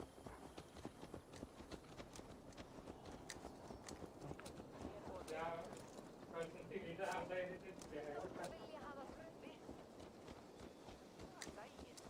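Horse hooves clip-clop steadily on the ground in the video game Assassin's Creed Valhalla, a continuous rhythmic patter under spoken dialogue, with faint bird calls in the background.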